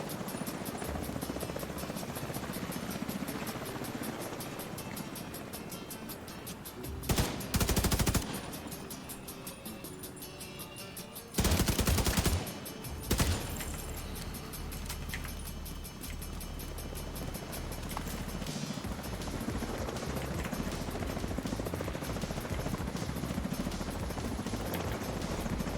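Video game gunfire rattles in rapid automatic bursts under a steady engine-like drone, with a few louder sharp blasts standing out partway through.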